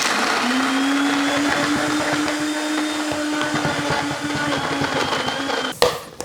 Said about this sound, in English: And I'm going to blitz this until a dough sort of forms.